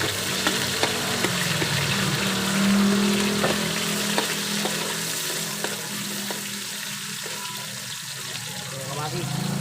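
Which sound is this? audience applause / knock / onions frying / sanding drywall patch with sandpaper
onions frying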